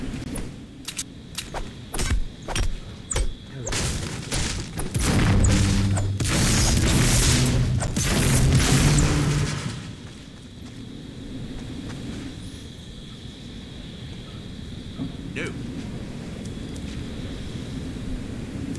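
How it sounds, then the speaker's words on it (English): Fireworks in the video game Fortnite go off in a rapid run of loud bursts and booms for about ten seconds, then give way to a quieter, steady game soundscape with an occasional pop. "Fireworks really put the sky in its place."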